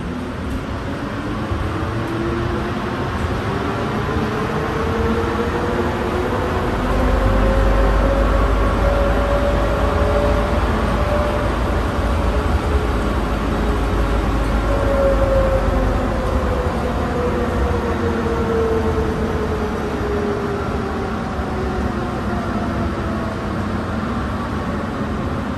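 An airport terminal monorail tram at Las Vegas rides along with a steady loud rolling hum and a rising then falling motor whine, continuous throughout with no talk.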